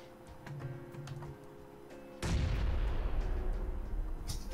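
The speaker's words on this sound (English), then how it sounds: "Go throw a grenade at the bastards." A frag grenade in PUBG goes off with a sudden loud, close boom midway through, after light ticking and clatter, and the blast's rumble and debris linger to the end.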